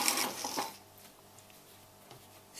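Sewing machine stitching a 1 cm seam on a fabric tea or coffee cosy: a quick, close burst of whirring needle strokes for about half a second, then a quiet hum and faint mechanical ticks.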